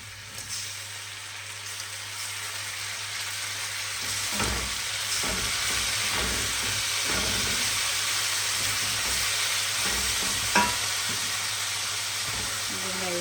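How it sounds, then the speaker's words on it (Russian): Tomatoes hiss and sizzle in a hot pan, with scattered scraping and clattering from stirring over the steady frying noise. "И сейчас отправляем сюда помидоры."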